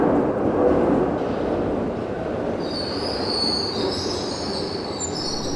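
Glasgow subway train pulling into the station with a dense roaring rumble, high metallic wheel squeals rising over it in the second half, loud and close.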